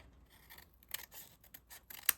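Scissors trim paper for a small accordion-style journal, making a few quiet, close snips and crisp paper rustles, ending in one sharper cut.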